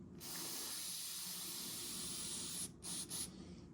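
Aerosol brake cleaner sprays onto a dirty spark plug from a hard-starting Honda generator in a long steady hiss, cut by two short bursts near the end, with no talking.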